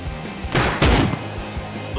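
Gunfire in the survival game Rust: two loud, close bursts of rapid shots in quick succession, set against fainter background rumble, with no talking.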